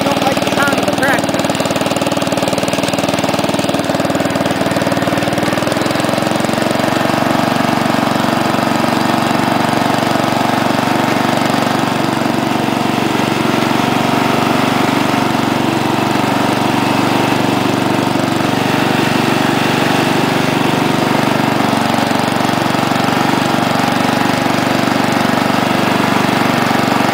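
A Wheel Horse A 800 Ranger tractor engine idles steadily and loudly for the whole stretch, a continuous rough mechanical drone with no pauses.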